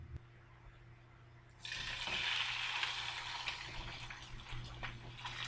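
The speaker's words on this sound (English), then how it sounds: "Sizzle, sizzle, sizzle." After a quiet start, chicken hits a hot skillet and bursts into loud, continuous sizzling that crackles on steadily.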